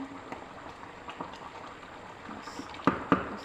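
Fish curry bubbling in a pan on the stove as water goes in, a soft simmering hiss with a couple of sharper splashy sizzles near the end, close by.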